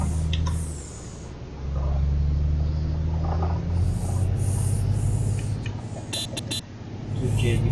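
Bus engine in a Euro Truck Simulator 2 bus mod on a Turkish route near Edirne, a low steady rumble that swells as the throttle opens, with brief hissing air bursts and a voice speaking over it.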